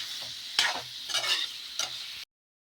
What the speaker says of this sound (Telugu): కొద్దిసేపు ఇలా ఫ్రై అయితే చేసుకోవాలి